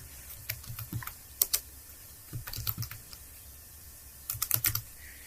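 Keys on a computer keyboard are tapped in short, quick bursts with pauses between them, close and clear against a quiet room.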